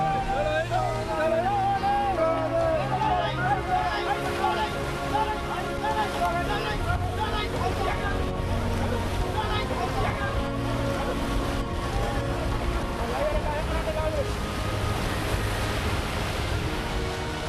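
A fishing boat pushes through high waves at sea in strong wind off Mauritania, with constant rushing surf and gusting noise under a narrating voice, plus pitched sounds rising and falling throughout.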